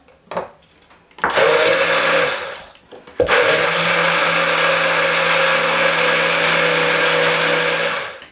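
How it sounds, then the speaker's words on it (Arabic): An electric blender whirs loudly as it emulsifies an egg-based sauce while oil is slowly added, starting with a short burst, then a pause and a long, steady run at full speed. "ودابا غنبقى نزيد بشويه بشويه الزيت وانا كنطحن على هذا الشكل هذا"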